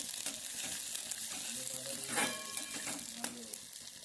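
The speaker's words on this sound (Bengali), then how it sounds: "এবার ভালো করে পেঁয়াজটা একটু ভেজে নেব" Chopped onions fry in a pan for a Bengali ilish and ash gourd ghonto, a steady close sizzle with scraping stirs over it, no talking.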